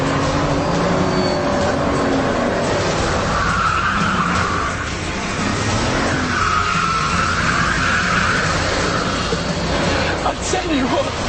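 Bugatti EB Veyron with about 1,000 horsepower pulling out of a hairpin in first gear, its tires skidding and squealing over a loud, steady engine roar that holds throughout, with a voice talking over it.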